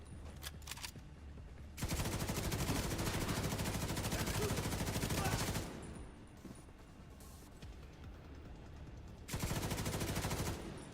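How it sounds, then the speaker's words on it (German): Automatic gunfire in The Division 2, inside tunnels: a long, loud, sustained burst of rapid shots, a quieter stretch of game noise, then a second dense volley near the end. "Ich schieße jetzt."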